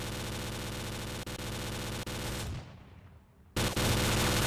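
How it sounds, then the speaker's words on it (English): Automatic gunfire in the S.T.A.L.K.E.R.: Clear Sky video game, loud dense bursts of rapid shots that briefly stop, then resume just as intensely. "I'm close to him, and I'm shooting."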